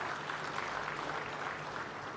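Audience applause at the 9th Africities Summit in Kisumu, a steady wash of clapping from a crowded hall that holds evenly throughout, moderately distant and without voices.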